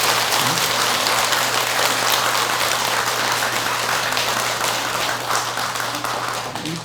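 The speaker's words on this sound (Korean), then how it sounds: "박수 한번 치세요." An audience at a Buddhist monk's dharma talk applauds continuously, a dense, loud wash of clapping that holds steady for several seconds before easing slightly at the end.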